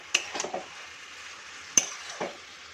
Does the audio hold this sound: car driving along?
no